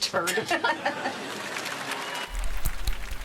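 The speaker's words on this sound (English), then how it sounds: "The applause is for Jane Lynch, our legend, and Janet McCurdy." Studio audience applause and light laughter for guest actors on a sitcom set, a short burst of clapping mixed with chatter that fades before a low thump.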